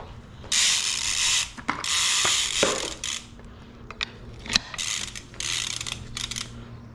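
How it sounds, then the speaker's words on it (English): A pedal wrench tightens BMX pedals on an SE Bikes PK Ripper, giving several bursts of rapid ratcheting clicks with brief metallic clinks and taps between them, close by and with no talking. "It's a pedal wrench. Make sure your pedals are tight."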